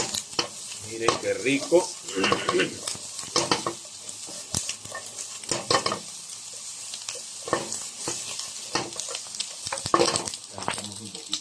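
Chicken gizzards fry in a pan for a Peruvian sautéed gizzard dish, a steady sizzle broken by repeated scraping and stirring clatter, with a voice speaking briefly over it.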